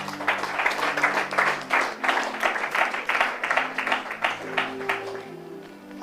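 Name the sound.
congregation applauding in church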